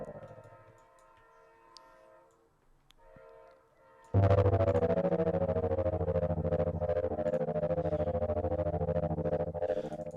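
A synthesized helicopter-like machine sound built in Harmor starts with faint, sparse tones, then bursts into a loud, steady, rhythmic chopping pulse with a tremolo throb that carries on to the end.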